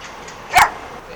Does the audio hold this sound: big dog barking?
yes